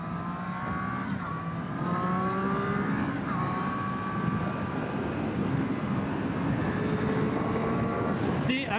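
A Triumph Street Triple R 765 motorcycle accelerates on the road, its engine note climbing through rising gear sweeps with a shift or two, loud and continuous under wind noise.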